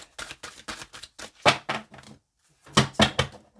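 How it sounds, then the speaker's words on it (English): Large oversized cards being shuffled by hand, a series of crisp riffling and slapping bursts with a brief pause before a final flurry, close and fairly quiet. "Let me try shuffling this way."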